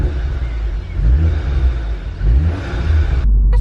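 A Volkswagen car with a newly fitted exhaust accelerates, heard from inside the cabin as a steady low engine rumble that swells and eases, fairly loud, with a sudden drop near the end.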